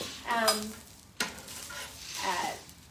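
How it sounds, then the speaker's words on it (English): Eggplant sizzles on an outdoor griddle, a soft frying hiss broken by short stirring and scraping sounds and one sharp click, close by. "outside grilling this eggplant for the first time"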